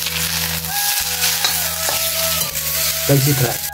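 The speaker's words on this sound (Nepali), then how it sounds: "म यहाँ कैसी फ्राई हान्दैछु, कैसी फ्राई।" Kaisi fry crackling in a hot pan, a loud continuous sizzle with a few scraping stirs and metallic clinks toward the end, close by and without speech.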